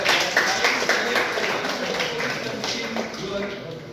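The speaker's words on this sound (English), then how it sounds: "a big applause you have to give to K. Manjuna and entire team of faculties" Scattered audience clapping at a Startup Day event for the faculty team, a moderate, fairly close patter of hands that gradually thins out, with some voices mixed in.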